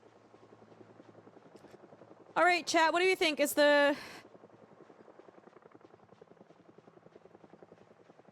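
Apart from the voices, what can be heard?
helicopter in the video game Project Zomboid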